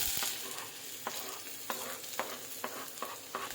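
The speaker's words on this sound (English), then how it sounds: "We will just fry these onions till it's a little bit brown." Finely chopped onion fries in hot oil in a pan, a continuous sizzle broken by regular scraping stirs roughly every half second.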